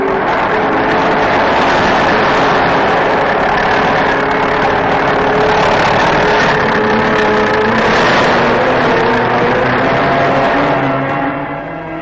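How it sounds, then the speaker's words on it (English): Tractor engines labouring through soft Antarctic snow on an expedition traverse, a loud, continuous droning rumble with steady harmonic whine, sustained without pause and easing slightly at the end. "The softer the snow, the less the tractors liked it."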